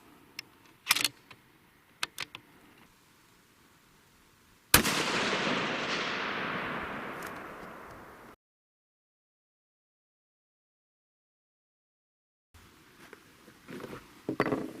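A single loud, sharp rifle shot from a 6.5 PRC Browning Max Long Range rifle with ELD match ammunition rings out and decays over a few seconds outdoors, framed by small clicks and handling noises before and after a stretch of silence.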